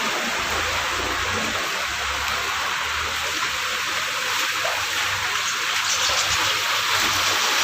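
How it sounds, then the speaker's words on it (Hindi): Floodwater after torrential rain in Chikhli, Pune, rushing steadily in a continuous broadband roar like a fast stream, close and loud throughout with no voices. "हे बघा पाणी पाणी पूर्ण महापूर आ आहे"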